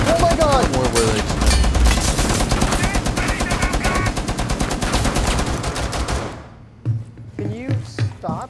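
Sustained rapid automatic gunfire in Rainbow Six Siege, dense and loud for about six seconds before cutting off, followed by a few sparser bursts, with voices talking over it.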